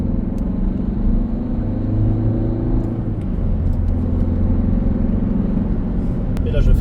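Sixth-generation Ford Fiesta pulling hard in third gear, a loud, steady engine drone with low rumble heard from inside the cabin, rising gradually and continuing throughout.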